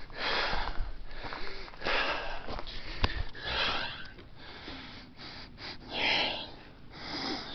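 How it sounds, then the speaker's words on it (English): Repeated close-up sniffs at tree bark in a forest, short sharp inhalations in irregular bursts, with breathy snorts between them and no talking. "I'm sniffing the bark"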